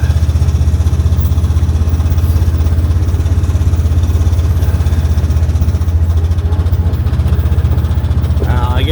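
A Honda Big Red 700 utility vehicle engine runs loud and steady at a fault-prone quarter throttle, a constant droning rumble with a fast pulsing throb that holds throughout, close to the listener.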